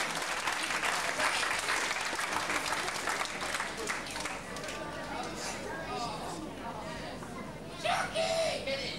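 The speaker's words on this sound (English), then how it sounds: "Give a nice round of applause for Shatney." Audience applause at a live variety show, loud dense clapping that thins gradually while chatter and a voice come through near the end.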